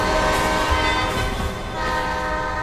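A video game train blares its horn while rushing past, a loud sustained tonal blast over a heavy rumbling roar, close and continuous without talk.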